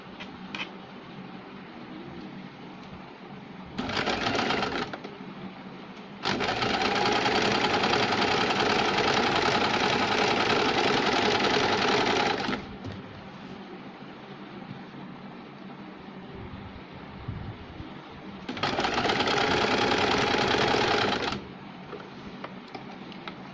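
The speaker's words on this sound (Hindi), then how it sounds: "ये देखिए, इस तरह से हम जिगजग की सिलाई लगाएंगे।" A sewing machine runs zigzag stitches on a saree fall in three bursts. Each burst is a loud, rapid mechanical whir, and there are quieter pauses between them. No one speaks.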